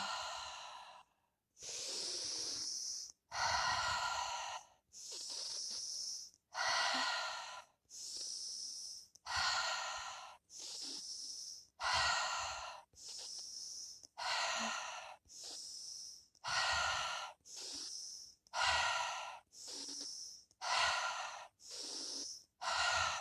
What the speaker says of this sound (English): Hold that stomach in, almost like you're sucking in. Really loud exhale.